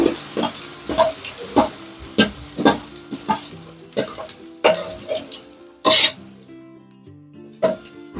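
Handvo batter of lentils and rice in a kadai being spread with a ladle over a crackling tempering of white sesame seeds, with repeated scraping strokes and soft sizzling, close and alone.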